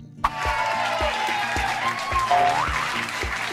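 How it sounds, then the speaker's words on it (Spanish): Applause from an audience in a children's math class setting, steady clapping throughout with a rhythmic beat of music underneath and a brief sliding tone. "Démosle un fuerte aplauso a mi amigo,"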